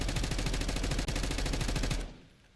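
Rapid automatic gunfire in Warzone, a fast regular burst of loud shots lasting about two seconds before cutting off abruptly.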